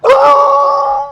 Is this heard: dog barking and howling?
yes